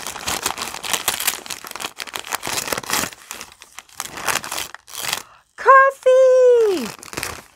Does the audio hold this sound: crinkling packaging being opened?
yes